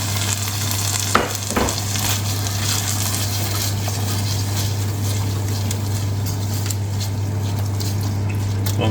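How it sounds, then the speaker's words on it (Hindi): Half a kilo of chickpeas hitting a hot frying pan for a Lahori black pepper chickpea dish, giving a steady close sizzle and frying hiss with a brief clatter near the start, over a constant low hum. "तो ये मैं आधा किलो चने ये मैं डालूँगा इसमें।"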